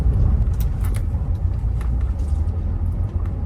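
A driving-school car on a practice exam route in the town of Sarny pulls away after the gear goes in, a steady low engine rumble heard from inside the cabin with faint clicks above it.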